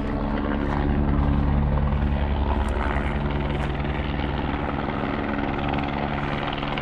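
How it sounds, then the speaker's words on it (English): A helicopter flies overhead above a backpacking trail near Pine Valley, Utah, its rotor chop a steady, loud throbbing that swells slightly then holds, with no talking. "It looks like the chopper's coming again"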